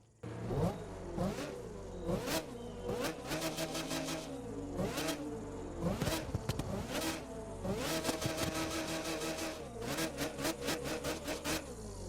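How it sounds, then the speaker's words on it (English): A Proto Concept Sparrow racing car engine in The Crew 2 revs repeatedly, rising and falling in rapid sweeps with sharp gear-change bursts, loud and close throughout, with a synthetic game-like quality. "this car is definitely going to sound pretty dang insane as well"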